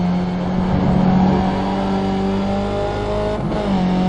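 A car on the Brands Hatch circuit roars steadily under hard braking and a gear change, with engine tones sliding in pitch and a brief dip around a shift, loud and continuous throughout.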